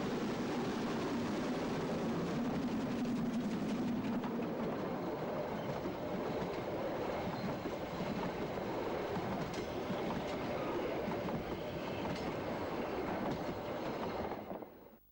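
A double-headed narrow gauge steam train with a 2-10-2 tank locomotive, bound for Nordhausen, rumbles past with a continuous heavy roar and rattling wheels, loud and close throughout, then cuts off abruptly.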